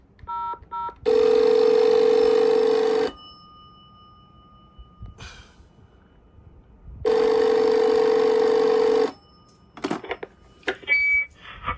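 An antique French-style rotary phone rings on a call from a Cisco VoIP phone system, giving two long, loud electric bell bursts a few seconds apart, followed by clicks and clatter as the handset is picked up.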